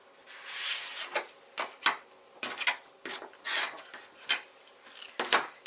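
Rotary or scissor cuts trimming the fabric seam allowance along a foundation paper piecing pattern, heard as a series of short, crisp rasping strokes in uneven bursts, close and fairly quiet, with no talking.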